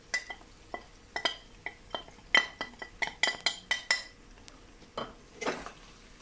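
A spoon scrapes and clinks against a pot of Bengali home-style lamb chops curry in a quiet kitchen, about a dozen distinct metallic taps and scrapes in an irregular rhythm, fairly close.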